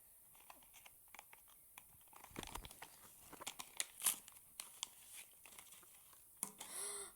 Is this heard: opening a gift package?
yes